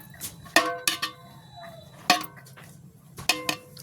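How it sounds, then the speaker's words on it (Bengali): Chicken biryani rice being mixed in a cooking pot, with a few sharp metallic clinks and scrapes of a utensil against the pot spaced across a quiet background. "ফাইনালি এই যে ভাতগুলোকে এবার মিক্সড করতেছি"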